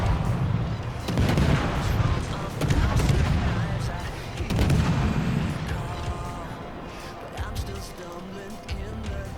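Naval guns fire in a World of Warships battle, with repeated heavy booming salvos spread across the clip as someone talks over them.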